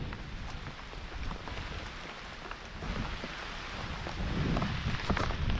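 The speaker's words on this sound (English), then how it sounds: "little rainy today" Rain falls outdoors on a wet day, a dense steady patter with scattered nearer drops, loud and continuous without any voices.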